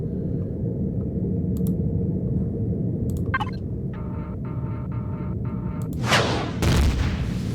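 Turret fire in the space survival game Empyrion Galactic Survival: a few sharp synthetic clicks and a short burst, then two heavy broadband blasts as the rounds strike the target near the end, over a steady low engine rumble.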